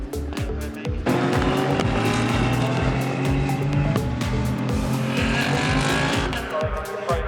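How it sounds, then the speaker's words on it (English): GT race cars lap Snetterton circuit in a GT Cup race, their engines roaring loud and continuous with rising and falling revs and gear changes as cars pass, and bursts of tire squeal. "Freddie Flintoff would be continuing to make progress in the race, lap after lap after lap"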